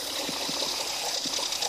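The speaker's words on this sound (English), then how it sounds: "this little waterfall." A small waterfall in Alligator Creek splashes and gushes steadily, a close, continuous rush of water with no voices over it.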